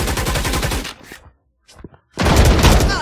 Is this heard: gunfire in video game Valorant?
yes